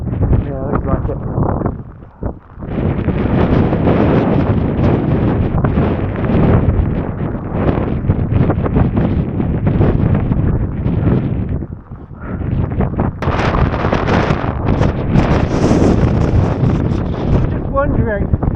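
Strong, steady wind during a blizzard in the wild, a loud roaring rush buffeting the microphone with gusts rising and falling, and people speaking briefly beneath it.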